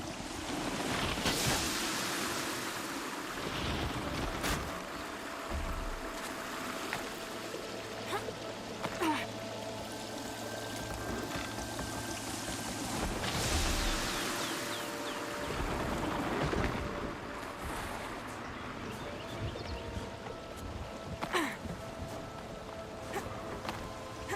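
Water rushing as it fills a basin in Horizon Zero Dawn, a steady, loud, broadband wash that runs the whole time with faint swells and a low hum underneath.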